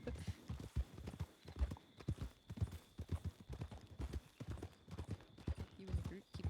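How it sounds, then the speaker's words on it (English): Horse hooves clip-clop in a rhythmic trot in a video game, mid-distance, with people chatting over the steps throughout. "where the hell did that horse come from?"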